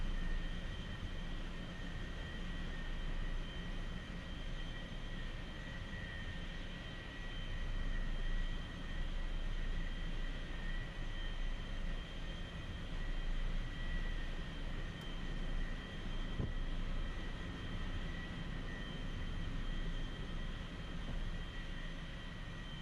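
A light aircraft engine drones steadily through a landing practice circuit, a constant mid-level hum with a faint tonal whine that holds almost unchanged from start to finish, heard from inside the cabin with no talking.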